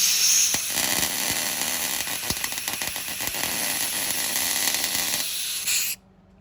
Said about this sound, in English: I guess we'll do our full beads now on the bracket